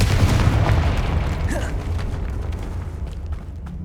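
A Confringo fire spell detonating in Hogwarts Legacy: a loud, rumbling blast with creaking and popping debris that slowly fades over a few seconds, no voices.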